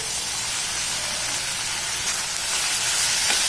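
Onions sautéing over medium heat in a pan while making a yam (karunai kizhangu) masiyal, giving a steady, dense hiss and sizzle that swells slightly toward the end, with no voices.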